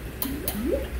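A CO2 ballast system for an RC submarine blowing gas through a hose underwater, giving two short bubbling gurgles in quick succession, close and clear.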